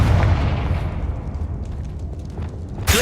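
A fire-blast spell explodes in a fantasy wizarding video game, a loud, deep boom that rumbles and slowly fades over a few seconds before a fresh burst of noise at the end.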